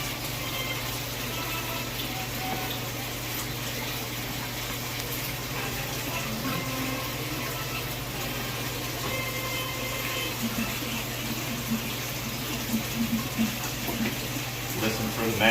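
Water drains steadily from an aquarium tank through a siphon hose, a continuous close rushing gurgle with a constant low hum underneath, growing slightly bubbly toward the end.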